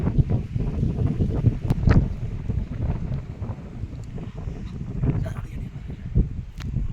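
Strong wind on a hilltop buffets the microphone in continuous gusty rumbles and roars, loud and close, while a person talks underneath it.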